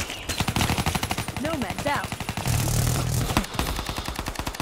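A modded 1911 pistol fires in very rapid bursts in a video game, a dense stream of sharp cracks at almost machine-gun speed, loud and close, with brief speech.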